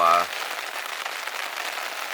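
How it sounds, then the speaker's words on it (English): Heavy spring rain falls steadily on a campsite in Algonquin, a dense, even patter that continues after a brief voice at the start. "as you can probably hear, it's raining pretty good again"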